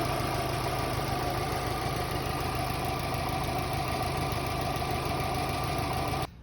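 A car engine idles steadily after a battery terminal has been reconnected and tightened, a loud even rumble holding for about six seconds before cutting out.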